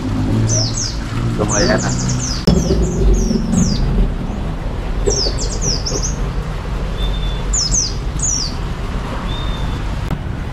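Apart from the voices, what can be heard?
pleci (white-eye) birds chirping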